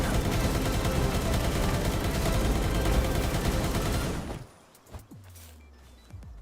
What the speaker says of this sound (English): Let's try out these guns.